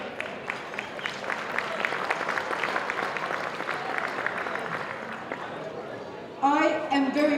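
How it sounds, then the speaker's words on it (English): Guests at a Cypriot community annual ball in Melbourne applaud with steady, moderately loud clapping for several seconds, fading near the end as a voice begins speaking. "A big applause to all of you."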